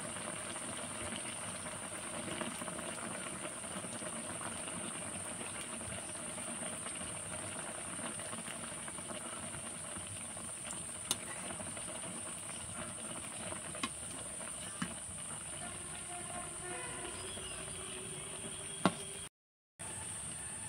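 Chicken spring rolls sizzle in a pan of oil over medium heat, a steady close hiss with soft crackling patter that runs unbroken, with a few sharper pops and a brief dropout near the end.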